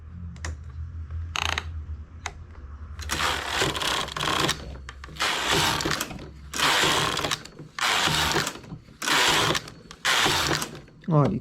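Knitting machine carriage drawn back and forth across the needle bed while knitting an open stitch, giving repeated loud rasping, ratcheting passes of about a second each in a steady rhythm, close by.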